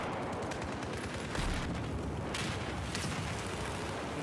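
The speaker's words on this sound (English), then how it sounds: "Shooting at no one" Dense, continuous gunfire in a video game, steady and moderately loud, with a heavier thump partway through and no talk over it.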